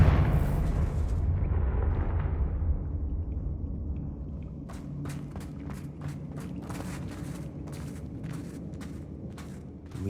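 A Confringo spell blast in the Hogwarts Legacy video game, a loud booming explosion that fades into a low rumble, followed by a run of sharp, evenly spaced cracks and impacts over continuing background noise.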